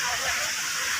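Rushing water roars in a steady broadband wash, like a waterfall heard up close, continuous for a brief moment, at the Atri Muni ashram waterfall in India.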